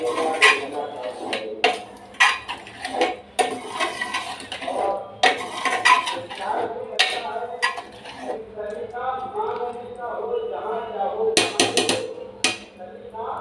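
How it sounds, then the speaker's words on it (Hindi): Spoon clattering and scraping against a pan while yogurt is mixed into spicy mutton liver (kaleji masala), a run of metallic knocks and scrapes in bursts, fairly close, with someone talking over much of it. "अच्छे से इसको मिक्स कर देंगे और दही के पकने तक अच्छे से पका लेंगे हम।"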